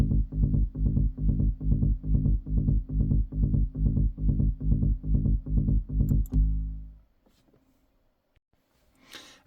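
Synthesized bass notes made with the Spire synth for trance music pulse in a steady repeating rhythm, deep and punchy, for several seconds before stopping abruptly into near silence.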